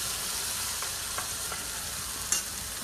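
Masala added to sautéed onions fries in a pan for an apple mor kuzhambu, giving a steady close sizzle with a few light stirring clicks and a sharper tap near the end.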